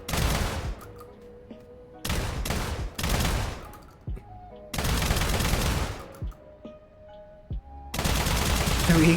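Bursts of automatic gunfire in a video game, several loud sustained volleys separated by short pauses, with a few single shots and faint background game sounds between them.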